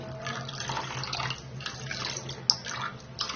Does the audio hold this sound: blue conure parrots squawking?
no